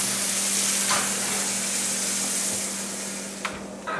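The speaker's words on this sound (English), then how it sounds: "I'm just going to get a good sear all the way around" Monkfish sears in hot oil in a pan, giving a steady, close sizzle that fades slightly toward the end, with a couple of brief hissing bursts and no talking.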